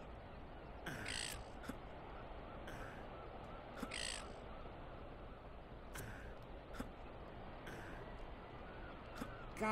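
Harsh crow caws from the Getting Over It video game, several separate calls spaced irregularly over a quiet, low background hum.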